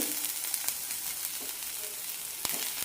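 Grated coconut and cashew nuts sautéing in a pan for a kurma, a steady close sizzle with occasional stirring scrapes and no voices.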